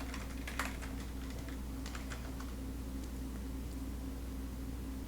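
Quiet typing on a computer keyboard as a web address is entered into a browser: a short run of soft, irregular key clicks over a steady low electrical hum.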